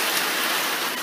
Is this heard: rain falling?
yes